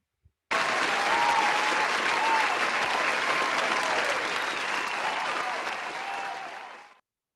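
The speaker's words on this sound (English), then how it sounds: "Please give a big round of applause for Pooja Kaloy." Enthusiastic audience applause at a college fest welcome-day event greets a mentor: a sudden burst of dense clapping that stays loud and steady for several seconds, then tapers off toward the end.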